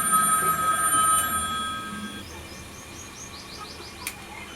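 A mobile phone rings indoors with a thin electronic tone that fades after about two seconds, followed by a short series of faint chirping beeps, over a quiet room.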